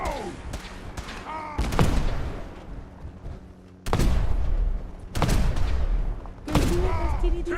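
Sniper gunfire in a modded Fallout 4 battle, several loud sharp shots and booms in quick succession with echoing tails, mixed with other combat noise.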